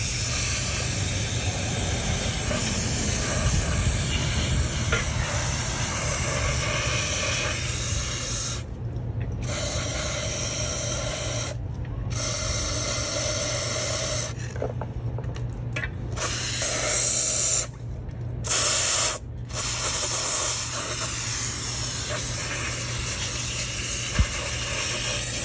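Steady hissing spray of cleaner into the motor of a 1934 U.S. Tool Company Commander drill runs continuously, broken by a few brief silent gaps, loud and close with a low mechanical hum underneath.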